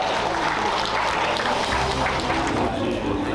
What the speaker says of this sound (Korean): 나오실 때 박수 보내주시면 감사하겠습니다.